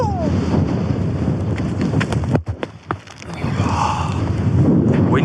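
Strong wind on a mountain summit roars and buffets close to the microphone, rising and dipping with gusts, briefly easing before blasting hard again.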